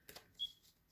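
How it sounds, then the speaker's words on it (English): A Twin Flame oracle card deck is shuffled in a quiet room, giving a couple of brief, soft riffling bursts followed by a faint papery flick, with no talking. "So I'm shuffling the Twin Flame deck"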